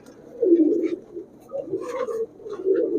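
Palla line pigeons coo nearby in soft, low, repeated phrases, with a few faint higher chirps between them.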